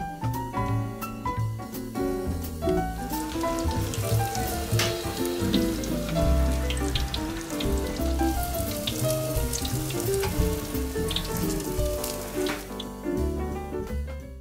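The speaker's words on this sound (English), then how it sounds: "Then deep fry in oil until golden brown." Avocado cheese croquettes deep fry in hot oil, a steady dense sizzle with crackling pops that runs on without a break at close range, and no one speaks.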